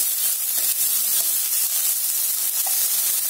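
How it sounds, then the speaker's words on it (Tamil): Sliced onions sizzle steadily in a hot pan of oil for a Kongu-style goat blood fry, a close, continuous bright hiss with faint crackles and no talking. "வெங்காயம் நல்லா வதங்கட்டும்."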